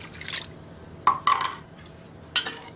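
Brief splashes and trickles of water poured into a pan with sugar, a few short bursts of liquid with quiet gaps between, close by.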